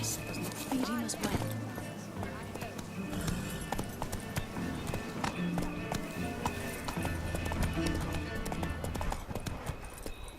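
Hooves clip-clopping in a steady galloping rhythm in The Witcher 3: Wild Hunt, over busy game music and ambient noise, with a horse whinny in the mix.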